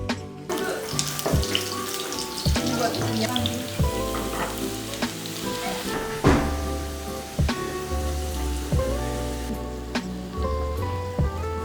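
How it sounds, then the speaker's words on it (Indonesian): Shallots and garlic sauté in hot oil, a steady close sizzle and crackle that carries on throughout without any talk. "tumis bawang merah dan bawang putih"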